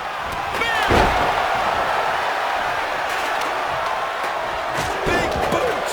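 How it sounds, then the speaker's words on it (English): A big boot strike in the WWE 2K25 wrestling video game lands as a heavy slam over a roaring arena crowd, followed by further thudding impacts while a commentator's voice talks throughout. "Big boot."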